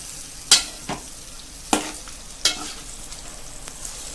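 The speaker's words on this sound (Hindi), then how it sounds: "ये देखिए, हमने पास्ता डाल दिया है। अब इसको अच्छे से चला लेंगे" Egg hakka pasta stirred in a pan gives a few sharp utensil scrapes and clinks, spaced irregularly over a low, quiet sizzle, close by with no talking.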